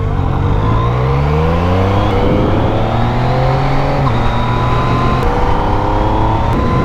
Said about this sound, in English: It's also an engine of extreme character